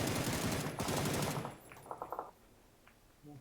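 Gunfire in a mobile battle royale game: a loud, rapid automatic burst fills the first second and a half, followed by a short quieter volley and then near silence.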